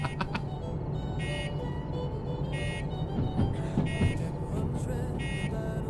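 DE6 diesel locomotive bell in the train game Derail Valley, repeated electronic tonal bursts in an uneven pattern over a low rumbling engine drone, fairly faint and without speech.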